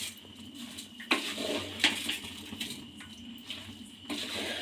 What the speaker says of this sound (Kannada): ಅಕ್ಕಿ ಹಾಕಿದ್ಮೇಲೆ ನೀಟಾಗಿ ತಿರುಗಿಸ್ಕೊಳ್ಳಿ